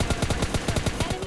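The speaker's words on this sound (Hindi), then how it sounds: "तो मैं ये बॉट फायर सुन के उधर चला जाता हूँ" Bots in a battle royale video game fire an automatic weapon in a rapid, even burst of about a dozen shots that continues without a pause.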